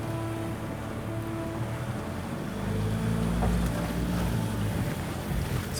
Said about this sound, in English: But the Defender is just wading through